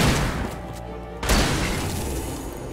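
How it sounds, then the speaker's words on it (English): Two loud pump-action shotgun blasts in Alan Wake, one at the start and another about a second later, each a heavy boom fading into a rumbling tail. "I think I'll go ahead and use a shotgun on this guy"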